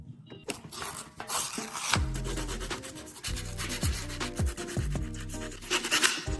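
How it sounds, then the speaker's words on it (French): Hand sanding a Subaru car part, a steady rasping rub with rhythmic back-and-forth strokes and some knocking, close and fairly loud, with no talking. "Je vais donc le poncer un peu et on y va."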